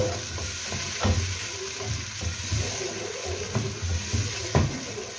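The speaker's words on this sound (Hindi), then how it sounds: "अब मैं इसमें थोड़ा सा पानी डालूंगी ताकि नीचे जब डालें तो वो जले।" Water poured into a hot pot of fried ginger, chili and turmeric sizzles and bubbles steadily, with a few sharp clinks of a spoon stirring against the pot.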